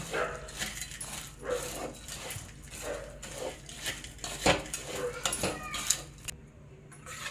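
A spoon stirs sugar continuously in a pan while making syrup for crisp sesame papad, giving close, repeated scraping and clinking strokes in a steady rhythm, with faint background noise.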